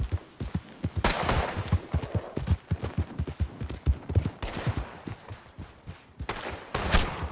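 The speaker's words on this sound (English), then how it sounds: "The guy was shooting at me" Gunfire crackles in a Red Dead Redemption 2 story-mode shootout: rapid, irregular bursts of sharp shots, some loud and close, others scattered, with hoofbeat-like thuds mixed into the clatter.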